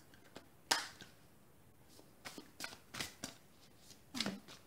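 Tarot cards being shuffled and handled to draw a last card, giving a quiet series of soft papery riffles and flicks, sparse and irregular, with no talking.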